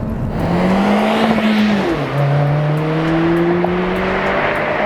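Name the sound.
muffled turbocharged 4-cylinder car engine accelerating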